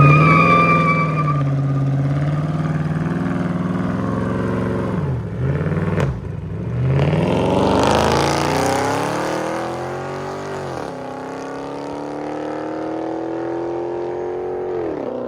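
A HEMI-swapped Chrysler 300 with a 6.4-litre engine, all-wheel drive and straight pipes roars as it drives off, loud and close, revving up and shifting through rising and falling engine tones.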